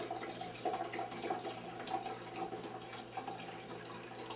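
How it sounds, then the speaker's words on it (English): Water poured over coffee grounds for a home cold brew, a steady faint trickling and splashing stream with light drips, continuous and close, with no talk. "as you pour the water over the grinds, just make sure that you get them completely saturated"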